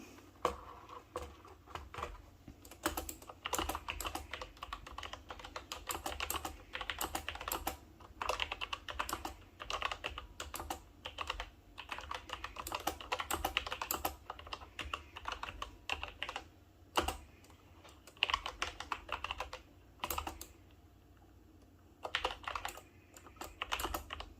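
Rapid, uneven key clicks from typing on an Alpha Freewrite keyboard, close and fairly quiet, with bursts of keystrokes separated by brief pauses.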